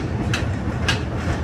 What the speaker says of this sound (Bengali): মেট্রোর আওয়াজে ওর আওয়াজটা শোনা যাচ্ছে না।